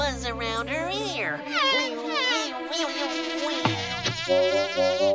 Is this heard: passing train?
no